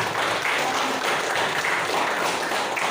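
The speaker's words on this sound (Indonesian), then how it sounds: "Silahkan tepuk tangan untuk kelompok 7 ya." A school class applauds a student group, a thick, even burst of many hands clapping at once that holds steady and loud throughout.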